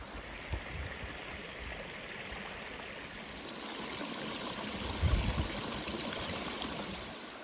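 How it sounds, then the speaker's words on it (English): Water running steadily along a stream watercourse beside a path, a continuous rushing, trickling wash with no talk over it. "So that there is the intended watercourse to channel the water"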